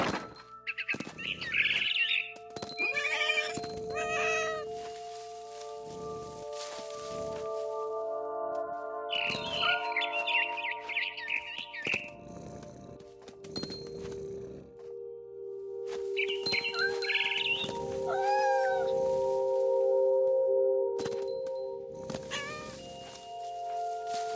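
In the video game What Remains of Edith Finch, a barn swallow twitters in several bright clusters over sustained background music, mixed with thumps and lower cat-like meows.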